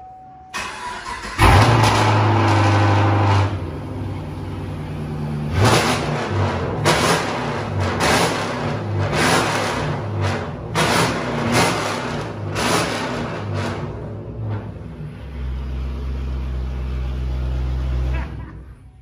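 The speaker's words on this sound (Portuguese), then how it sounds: "Você viu o barulho do Camaro?" A Chevrolet Camaro with recently fitted exhaust cranks and fires up, then revs repeatedly in loud bursts with a deep rumbling idle between blips, close and dominant, settling back to a low steady idle.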